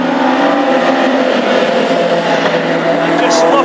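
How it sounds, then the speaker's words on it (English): Classic hot rod race cars at the Tipperary Irish GP circuit roar past in a dense, loud engine drone that swells steadily, with a commentator talking over it. "And here comes the lead drivers through again, and they'll be coming to lap the back markers very soon in this 30 lap event."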